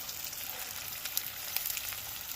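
Frying in a pan for a duck egg and potato curry, a steady crackling sizzle with scattered sharper pops running throughout, moderately loud and alone without any talk.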